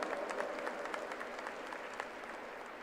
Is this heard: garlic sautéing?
no